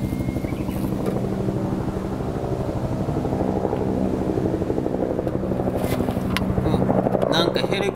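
A Japan Self-Defense Force helicopter flies overhead outdoors, giving a loud, steady, rhythmic rotor chop with a deep engine drone that holds throughout and grows slightly stronger toward the end.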